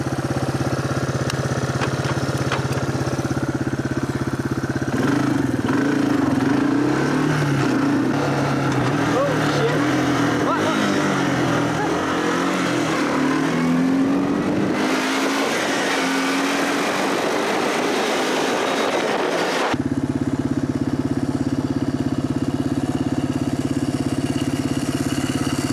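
Two-stroke motorbike and quad engines run and idle nearby in a continuous rumbling drone with some revving, while people talk over the noise.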